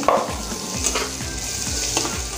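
Chopped onion dropped into hot oil for a Bengali rui fish curry, a loud crackling fry with bursts of spitting and stirring scrapes, no talking.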